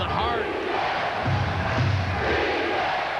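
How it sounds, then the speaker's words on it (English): A packed Melbourne arena roars during a 2001 World Cup qualifier basketball game between New Zealand and Australia, the crowd noise swelling and sustained throughout while a commentator talks over it. "Now listen to that crowd."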